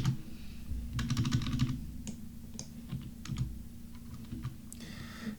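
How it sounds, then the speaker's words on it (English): A computer keyboard is typed on in short irregular bursts of crisp clicks, near and fairly quiet, with a low steady background hum and no speech. "Let's just type that in."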